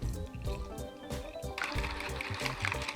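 Milk poured into ube funnel cake batter, a steady liquid stream running into a bowl for the full three seconds, with faint kitchen clatter underneath.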